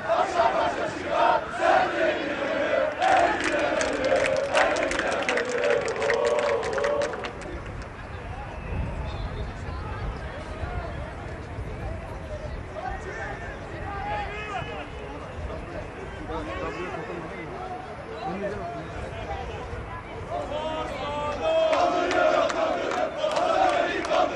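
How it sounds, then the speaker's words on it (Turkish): Loud crowd chanting from Fenerbahçe football fans at a team gathering, rhythmic name chants that ease into a rumbling roar midway and then swell again, with a commentator talking over them. "ve Andriy Bienvenu için tezahüratlar devam ediyor şu anda."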